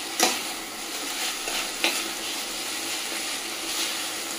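Quinoa pulao fried and stirred in a pan with salt, sugar and garam masala, a steady loud sizzle broken by two sharp scraping strokes of the spoon near the start and again at about two seconds.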